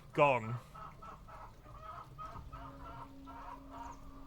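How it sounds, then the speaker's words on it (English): Chickens clucking in the background, opening with one loud, sharp squawk that fades into quieter, intermittent clucks. "The chickens in the background aren't really helping."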